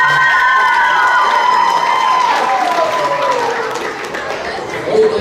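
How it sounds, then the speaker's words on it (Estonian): Audience applause and cheering fill a school playback show, a dense steady roar of clapping and shouts with a few voices calling out, holding loud throughout and easing slightly before a brief swell at the end. "Aga üks suur aplaus veel kord."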